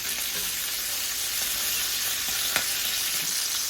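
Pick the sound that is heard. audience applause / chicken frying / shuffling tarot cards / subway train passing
chicken frying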